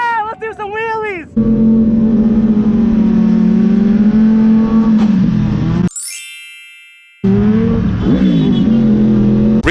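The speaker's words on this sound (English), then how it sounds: "let's do some wheelies." A motorcycle engine revs hard while the rider pulls wheelies, a loud sustained drone with pitch shifts. Voices come at the start, and the engine cuts out briefly before roaring back.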